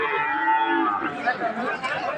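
Young calves of Sahiwal and other breeds, four to five months old, moo at the Ambari cattle market in Dinajpur, with drawn-out lowing calls close by and someone talking over them.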